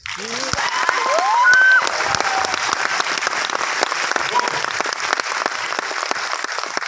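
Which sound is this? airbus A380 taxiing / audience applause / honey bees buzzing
audience applause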